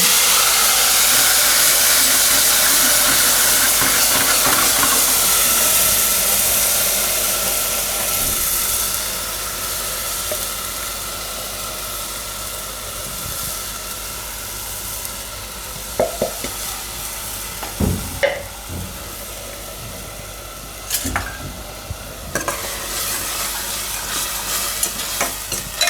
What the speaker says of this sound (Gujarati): હવે આપણે ટમેટા અને ડુંગળીની પ્યુરી હતી એ નાખી દઈએ.